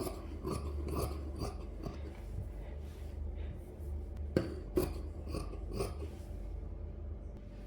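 Scissors snipping through old t-shirt fabric at the back neck area, a series of quiet, crisp cutting crunches in irregular bursts with a few sharper snips midway, close up against a low background hum.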